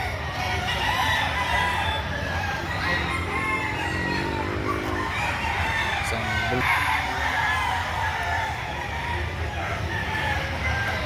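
Chickens and hens at a busy poultry market in Lipa, Batangas, clucking steadily with a rooster crowing now and then, all under constant crowd chatter and people talking nearby.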